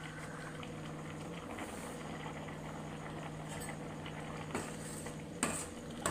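A wooden or metal spoon stirs a ground peanut and poppy seed paste into a pot of sweet ginnu mixture. Faint scattered clinks of the utensil against the pot sound over a low background hum.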